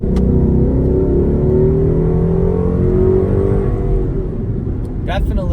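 A Ford Mustang GT engine roars under hard acceleration from 40 to 60 mph, its pitch rising steadily as it pulls, loud and close from inside the cabin.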